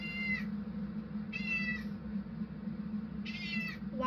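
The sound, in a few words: cat meowing loudly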